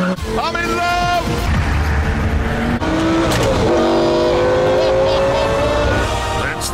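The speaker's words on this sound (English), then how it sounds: "That's the sound of a 5-litre V10 engine." A car with a 5-litre V10 engine revs loudly and steadily, its pitch rising and falling through several climbs, up close with a dense roar throughout.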